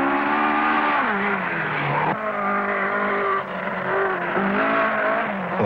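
Rally cars tear along a special stage of the Acropolis Rally near the end of the Peloponnese, engines screaming loud and close with rising and falling revs through gear changes, continuous throughout.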